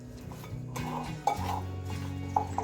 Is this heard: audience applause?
no